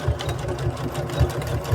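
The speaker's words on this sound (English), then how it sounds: "We're going to back stitch." A sewing machine back stitches along a hoodie seam with a fast, steady mechanical chatter and a repeating low thump, close and fairly loud, with no talking.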